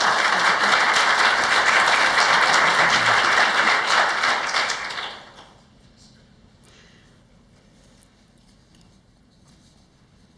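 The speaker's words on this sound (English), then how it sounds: "Please give them a round of applause." Audience applause for candidates at a League of Women Voters city forum in Port Orchard, a dense, steady roomful of clapping that fades out after about five seconds into quiet room tone.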